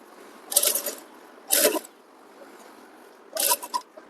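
A sewing machine stitches an invisible zip onto the back of a kurti, running in three short bursts of rapid mechanical whirring separated by quiet pauses, fairly close and with no talk.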